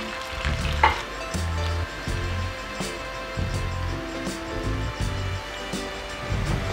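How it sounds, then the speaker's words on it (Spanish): Tortillas frying in hot oil for tuna tostadas, a steady close sizzle with periodic bubbling swells and soft clatter as they are moved in the pan. "La idea es que no se queme y que se fría parejo."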